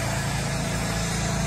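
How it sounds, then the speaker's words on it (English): Continuous, dense, pulsing motor drone from a pressure washer running outdoors at a Disney resort, steady and fairly loud without a break throughout the short stretch. "they're pressure washing."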